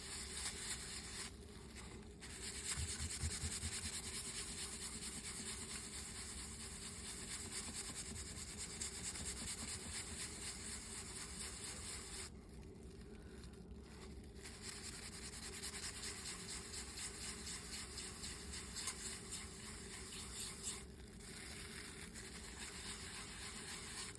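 Faint, steady rubbing as a casein painting is gently burnished by hand, a soft continuous scratchy swish with brief pauses, quiet and close with no talk.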